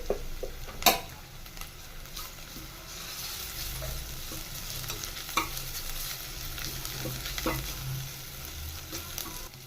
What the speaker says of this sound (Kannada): ಈರುಳ್ಳಿ ಫ್ರೈ ಆದ ನಂತರ ನಾನಿಲ್ಲಿ ಒಂದು ಸ್ಪೂನ್ ಆಗೋಷ್ಟು ಶುಂಠಿ ಬೆಳ್ಳುಳ್ಳಿ ಪೇಸ್ಟ್ ಸೇರಿಸ್ತಾ ಇದ್ದೀನಿ